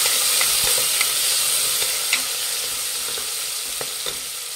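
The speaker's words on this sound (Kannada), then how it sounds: "ಒಂದು ಸ್ವಲ್ಪ ಮೆಂತ್ಯ ಸೊಪ್ಪು ಹಾಕ್ತಾಯಿದ್ದೀನಿ, ಸಣ್ಣದಾಗಿ ಹಚ್ಚಿರೋವಂಥದ್ದು. ಮಿಕ್ಸ್ ಮಾಡಿ." Finely chopped fenugreek leaves are stirred into onions frying in a pan for chicken donne biryani, giving a close, continuous sizzle with scattered scraping and clinking stir strokes.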